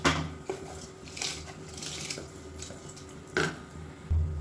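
Soaked rice tipped into a metal pot for kuska, with clinks and scrapes of a utensil against the pot and a few wet thuds, close and sporadic, no speech.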